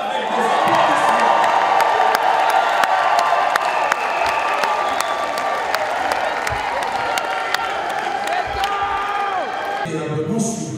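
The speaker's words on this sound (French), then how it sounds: "Si vous êtes d'accord avec moi, manifestez-le avec des applaudissements." An audience at a Congolese diaspora meeting in Paris with the President of the DR Congo applauds loudly and steadily. Cheers and whoops rise over the clapping throughout, and crowd voices mix in.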